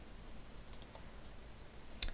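A single quick computer mouse click on a Slow Download button, landing near the end after a quiet stretch of faint room noise.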